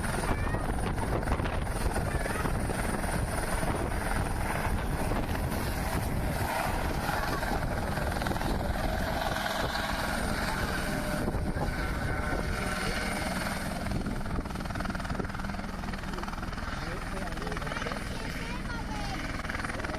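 A helicopter in dynamic rollover produces a loud, continuous rotor and engine roar with heavy wind buffeting that stays steady for about twenty seconds, with talking faintly underneath.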